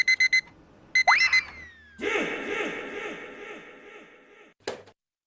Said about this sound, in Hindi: चलो ये अलार्म बंद कर दो